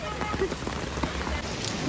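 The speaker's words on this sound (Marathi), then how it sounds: "पाऊस काय कंटिन्यू पडतोय" Steady rain falls outdoors on a rainy road-trip stop, a soft continuous patter of drops on surfaces, fairly faint and even throughout.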